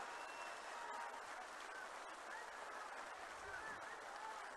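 A crowd at a political rally addressed by Chandrababu Naidu applauds, faint sustained clapping and cheering heard at a distance for several seconds.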